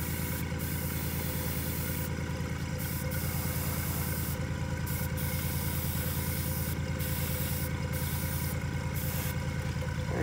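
A spray gun lays down a final coat of paint, giving repeated short hissing bursts over a steady low machine hum, close and fairly even in level.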